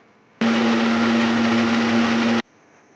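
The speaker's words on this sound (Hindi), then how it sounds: "अब इसको अच्छे तरीके से ब्लेंड कर लें।" An electric blender whirs steadily at full speed, blending garlic, onion, salt and oil into a red sauce for chicken shawarma, starting and stopping abruptly and loud and close, with no voices.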